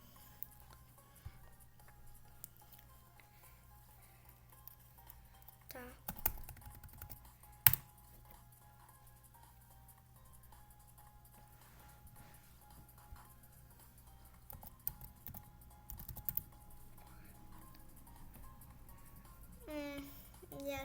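Keys clatter on a computer keyboard while a chat message is typed during a Dress to Impress game session, light quick taps running throughout under faint background game music with a few louder clicks.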